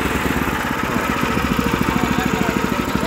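A hand tractor engine runs steadily just after starting, warm from earlier use, with a close, rhythmic thumping idle that holds even throughout.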